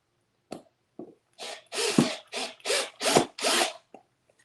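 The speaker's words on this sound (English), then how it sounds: "so after I get it the way I want it, I'm going to screw it down" A power drill driving screws into a painted wooden piece for a rustic scrap pumpkin craft, heard as a series of about seven close, loud whirring bursts, short at first and then longer, with brief pauses between.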